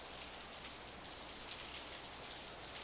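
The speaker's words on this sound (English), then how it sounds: "The rain was falling on my face in drops so large that it hurt." Heavy, freezing midwinter rain pours in the video game Steins;Gate 0 as a dense, even hiss of falling drops that holds steady and fairly quiet throughout, with no voices.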